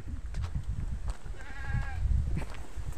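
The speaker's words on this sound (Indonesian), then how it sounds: "Ini kambing jenengan iki" A goat on a village farm gives a single clear bleat midway, close by, over a background of low rumbling noise and faint knocks.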